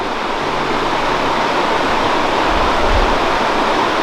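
A small creek flows and rushes on a North Carolina waterfall hike, making a loud, steady broadband wash of water. A faint low thump comes partway through, and no one speaks.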